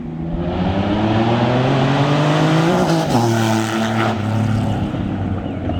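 A 2300 cc Triumph Rocket touring motorcycle with about 150 hp accelerates hard nearby, a loud deep engine roar rising in pitch with a brief gear-change dip midway, no talking.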